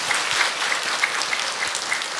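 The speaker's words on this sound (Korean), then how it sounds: "우리 박수로 환영하겠습니다." A church congregation breaks into steady, dense applause to welcome a newcomer, a continuous wash of many hands clapping at even loudness throughout.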